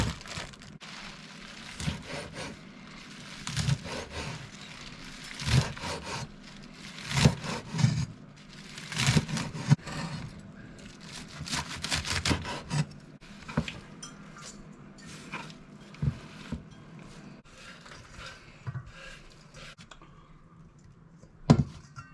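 A knife chops African greens (sukuma wiki) on a wooden chopping board in irregular clusters of close, dull thuds and scrapes, with pauses between bursts of cutting.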